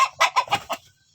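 Free-range breeding hens clucking while they feed, a close, loud run of about five quick clucks that fades into quiet.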